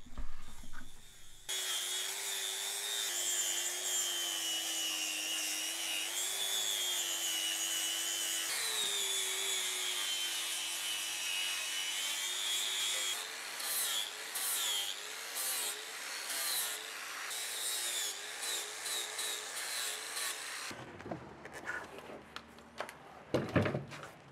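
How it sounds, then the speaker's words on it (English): A small angle grinder fitted with a flap sanding disc grinds the dead outer layer off a rotten tree stump, a steady high whine running for about twenty seconds before cutting off into scattered scraping and rustling. "I'm moving over to my small grinder with a sanding or flapper type disc to remove the outer layer of the stump"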